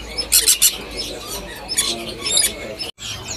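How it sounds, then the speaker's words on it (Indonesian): Pleci white-eye birds at a bird kiosk give bright, high chirps in short clustered bursts, fairly close, with quieter background noise between calls. "Ini ada ready stok burung pleci Bustomi."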